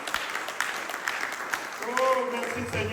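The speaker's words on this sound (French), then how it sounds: "Vous l'aimez aussi, applaudissez pour le Seigneur Jésus." Church congregation applauding at a Sunday service, scattered rhythmic clapping under a voice that speaks and then begins singing or chanting toward the end.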